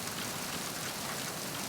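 Steady rain hiss in the Metal Gear Solid 2: Sons of Liberty HD video game, a dense even downpour with no break and no voices.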